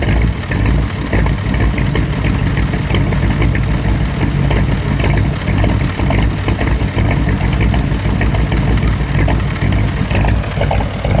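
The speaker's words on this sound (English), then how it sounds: "that's the Chevrolet small block V8 with a little bit of a camshaft in it, 10-to-1 pistons, and fuel injection" A red 1963 Corvette split-window with a fuel-injected Chevrolet small block V8, mild camshaft and 10-to-1 pistons idles loud and close, a steady lumpy rumble throughout.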